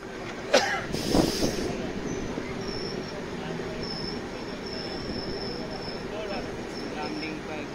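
A passenger train brakes to a stop at Lumding junction station, its wheels squealing in a long, shrill metallic whine with clanks and rumble close by, plus a few bangs near the start.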